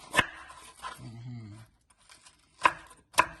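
A knife chops through cabbage for coleslaw in a few sharp, separate strikes on a board, with a dog whimpering briefly in between and quiet gaps around them.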